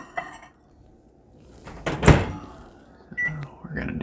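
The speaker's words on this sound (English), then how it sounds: "And then I like to microwave this for about 30 seconds." A microwave oven heating chocolate in a kitchen: a door thunk and beep-like tones, then a low running hum, close by, with clattering handling sounds around it.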